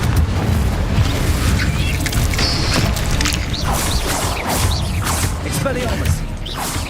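A Confringo spell explodes in the video game Hogwarts Legacy, producing loud booming blasts and whooshes in a busy, continuous combat soundscape, with a voice talking over it.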